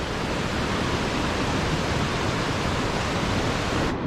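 Himalayan mountain waterfall on the trail to Madmaheshwar in the Madmaheshwar valley, a steady, dense, close rushing roar that fills the whole clip without a break, with no voices.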